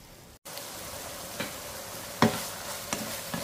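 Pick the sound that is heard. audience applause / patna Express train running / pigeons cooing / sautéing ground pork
sautéing ground pork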